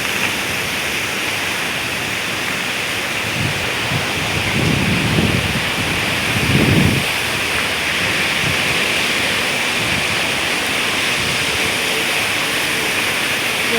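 Heavy rushing water in Abu Dhabi, a steady broad roar like a torrent or downpour runoff, close and continuous throughout with a few brief louder surges partway through.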